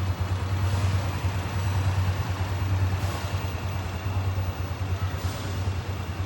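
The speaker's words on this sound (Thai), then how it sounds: "เราฟังเสียงเครื่องยนต์ใกล้เลยนะครับเครื่องยนต์นิ่มมากนะครับ" A 155 cc motor tricycle engine idles close by with a steady, low, even hum that holds throughout.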